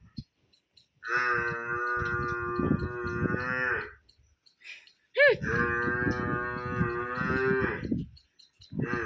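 A cow gives two long, loud moos close by, separated by a short pause with faint rustling.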